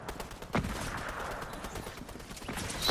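Shotgun blasts in the first-person shooter Modern Mansion Gun-Game: a couple of faint, distant-sounding reports, one early and one near the end, over a low rumbling game background.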